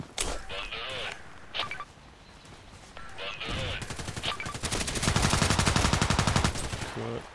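Gunfire in the online shooter Contract Wars: bursts of rapid automatic shots and single cracks, building into a long dense volley near the end, with a voice talking briefly amid the shooting.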